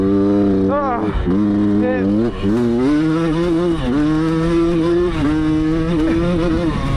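Honda Elsinore 125 two-stroke motorcycle engine labouring at low revs, a loud, close, uneven buzzing drone that bogs and surges with wavering pitch, heard continuously with a voice talking over it.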